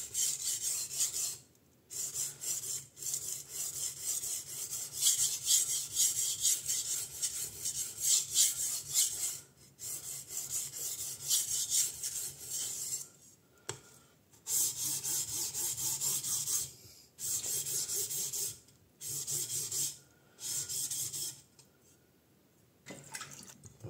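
A Damascus steel usuba knife drawn across a wet whetstone, with loud rasping strokes in repeated bursts separated by brief pauses.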